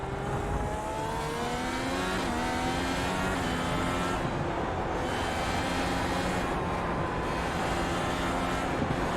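An IndyCar race car lapping Road America in iRacing, a loud continuous engine whine with rising and falling rev sweeps as the car brakes and accelerates through corners, no talk.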